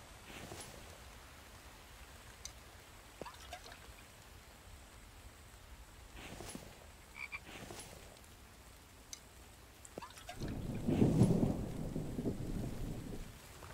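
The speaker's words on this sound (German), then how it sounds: "Wie das Gewitter schon wieder reinhaut. Ich liebe dieses Gewitter in diesem Spiel." A thunderstorm in the survival video game The Infected, with steady rain and wind, scattered faint cracks, and a deep rolling rumble of thunder swelling late in the clip.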